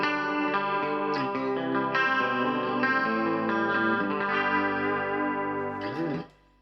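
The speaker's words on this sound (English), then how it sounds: "mixes dry signal with a slightly pitch shifting sound to produce a chorus-like effect" Guitar notes and chords played through a Valeton Coral Mod pedal on its Detune setting, dry tone blended with a slightly pitch-shifted copy for a shimmering chorus-like thickness, ringing out and stopping abruptly at the end.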